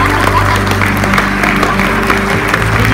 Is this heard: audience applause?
yes